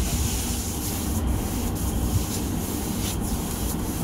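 Hand rubbing across a painted cement board or plywood wall, a steady close scratchy friction sound continuing without pause.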